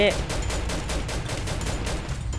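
Rapid bursts of M500 gunfire in the mobile shooter Free Fire ring out one after another across the whole stretch, loud and dense, with in-game effects layered beneath.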